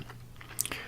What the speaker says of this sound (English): Just chew on that for a minute.